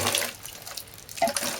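A watering can sprinkles water over freshly sown leek seeds in compost, giving a brief, close splash and patter that fades and then returns.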